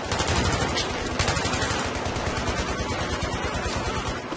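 Sustained automatic gunfire in a Battlefield 3 team deathmatch, loud rapid rattling shots continuing without a break across the whole stretch.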